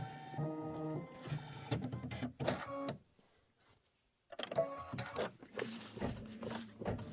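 A quilting embroidery machine stitching in rapid mechanical bursts with a whirring, printer-like rhythm. It stops for a quiet pause of about a second, then starts up again close by.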